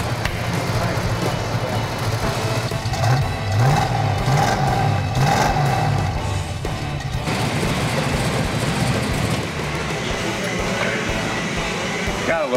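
A 1970 Hemi Charger V8 revs steadily after a gasket repair on its exhaust leak, a loud, continuous engine roar with rising pitch sweeps partway through, heard up close in a shop with background noise.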